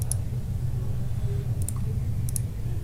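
Computer mouse clicks while adjusting window dimensions in design software, heard as three brief, crisp clicks spaced over a steady low background hum, with no talking.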